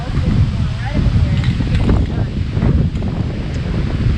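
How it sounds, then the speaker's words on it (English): Strong wind buffets the microphone outdoors, a constant low roaring rumble with gusty swells throughout, while voices talk faintly underneath during roof rack building and spray painting. "Yeah, it's too windy."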